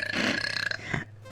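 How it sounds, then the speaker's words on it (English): A single long, loud belch from a burping compilation, rasping and drawn out before breaking off near the end, heard on its own with no speech. "what could induce this much burping on a constant basis?"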